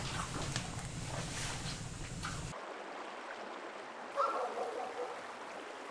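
A river flows just outside an open window, a steady watery rush that suddenly drops to a softer, quieter hiss partway through, with a brief soft knock near the end.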